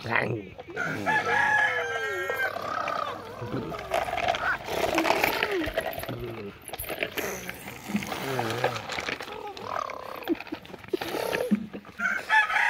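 A child imitates a loud tractor engine with the voice, in long, strained, wavering vocal rumbles. Other voices talk alongside throughout.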